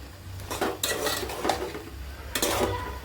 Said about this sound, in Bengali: লাউটা দিয়ে এখন ভালো করে নাড়াচাড়া করবো